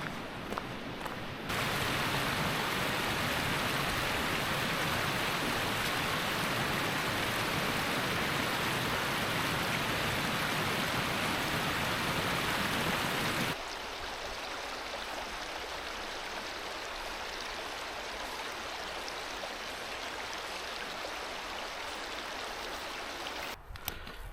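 A small river runs on a frozen winter mountainside, a steady broadband rush of water close by that drops to a softer, more distant flow partway through, with no voices.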